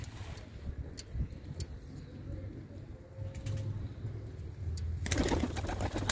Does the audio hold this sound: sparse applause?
no